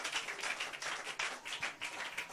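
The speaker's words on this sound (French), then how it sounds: "Donnez une main d'acclamation au Seigneur" A church congregation claps and cheers for the Lord during a French-language service, a quiet burst of many hands clapping together in a loose rhythm. The applause sounds somewhat distant and continues without speech.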